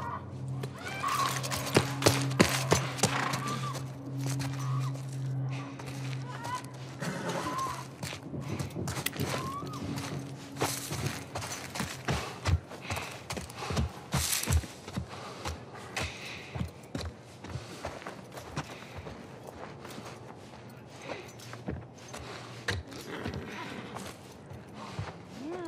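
Horse hooves clopping in a steady walking rhythm in the video game The Last of Us, growing more distinct over time, with creaks and a low hum early on.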